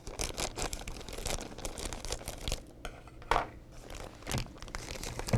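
Scissors cut across the top of a Wilton giant gummy mix packet, giving a run of crinkling, tearing plastic and paper rustle up close, with brief louder crunches partway through and no talk.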